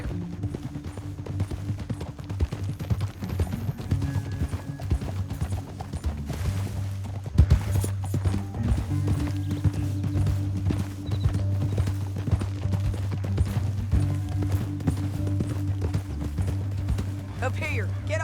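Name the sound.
horses galloping, from video game Red Dead Redemption 2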